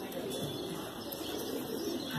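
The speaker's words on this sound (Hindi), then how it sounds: "ये देखिए भाई ये है कबूतर नील दुम्मा कबूतर है" Nil dumma pigeons cooing softly amid a dense, steady chorus of bird chirps and calls, with faint flapping; a continuous ambient backdrop without clear talk.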